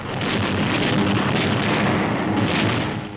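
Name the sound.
explosions and fires in a city during WWII bombing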